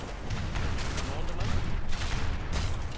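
Mortar fire in the strategy game Age of Empires 3 during a campaign mission: a dense, continuous barrage of booms and crackling blasts throughout, loud and unbroken.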